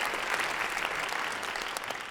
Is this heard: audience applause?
yes